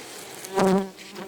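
Honey bees at an opened hive, one brief close buzz swelling and fading over about a second against quiet background hum.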